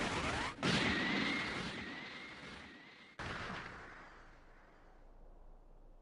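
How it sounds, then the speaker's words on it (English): Special Beam Cannon energy attack from the video game Dragon Ball Sparking Zero: a loud blasting crash with a rushing whoosh that fades, then a second sharp burst at about three seconds that trails off into a decaying rumble. "Special beam cannon!"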